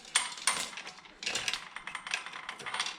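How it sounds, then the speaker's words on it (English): Metal bike chain being cut during a Mega Moto 80 swingarm e-bike build, a string of sharp clanking and scraping bursts of varying loudness, close by with no talk. "So now I cut this chain."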